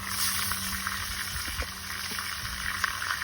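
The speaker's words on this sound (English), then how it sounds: "We're gonna put it down in the pan and get it a nice sear all the way around." Deer meat, seasoned with salt and pepper, searing in a hot pan, a steady close sizzle and crackle with a few soft pops, no voices.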